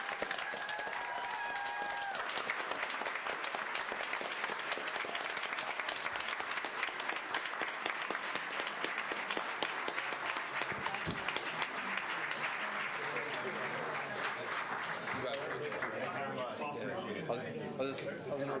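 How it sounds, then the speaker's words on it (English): Audience at a city commission meeting applauds a graduating class, sustained dense clapping from a crowd for many seconds, with a brief voice at the start and murmured talk near the end. "One more round of applause."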